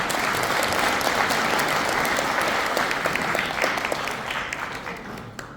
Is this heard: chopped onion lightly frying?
no